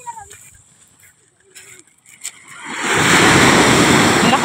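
Strong ocean surf at a seaside beach rushes in loud and close after a quieter stretch of faint voices, building into a broad roaring wash with wind buffeting the microphone.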